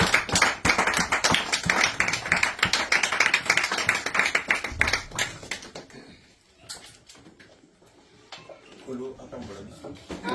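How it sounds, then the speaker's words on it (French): Church congregation clapping and cheering in acclamation as an apostle comes forward, a dense, loud wash of applause and voices that drops away abruptly midway, leaving scattered taps and quieter murmuring. "Pendant qu'il s'avance, nous acclamons le Seigneur."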